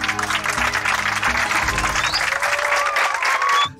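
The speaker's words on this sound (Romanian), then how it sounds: "Ne-au aplaudat niște copii." Group of children applauding arriving travel-show contestants, sustained energetic clapping with brief vocal or tonal sounds mixed in, ending abruptly.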